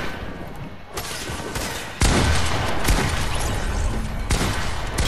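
Rapid bursts of video game gunfire rattle through a loud, dense battle mix, with sharp onsets near the two-second mark and steady firing after, and no talk over it.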